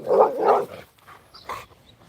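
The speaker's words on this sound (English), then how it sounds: "What's going on with you, little dog?" A small dog in a backyard barks and growls at close range, giving a couple of loud, gruff bursts followed by softer, shorter yaps, with no talking.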